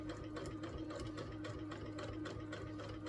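Sewing machine stitching to tack down a pumpkin table runner, a steady low mechanical whir with faint rhythmic needle ticks, running continuously and fairly quiet.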